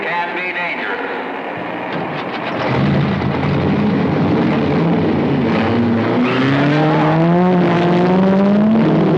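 Small open-wheel race cars scream past on a road course, and several engines overlap with rising pitch as they accelerate through the pack. The sound is loud and continuous, with a voice speaking over the roar in places.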